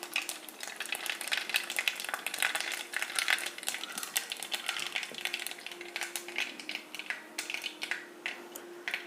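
Mustard seeds splutter and crackle in about 50 grams of hot coconut oil, a quiet, steady fizz broken by scattered sharp pops throughout, with no talking.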